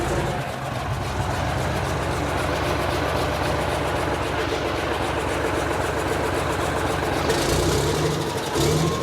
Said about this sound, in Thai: มาดูติดเครื่อง